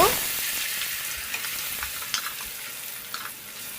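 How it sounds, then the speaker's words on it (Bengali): Marinated fish frying bhuna-style in a pan gives a steady, close sizzle throughout, with a few light clinks and stirring scrapes breaking through now and then; nobody speaks. "এখন আমি যে মাছটা মেরিনেট করে রেখেছি সেই মাছটা ভুনা করে নিব"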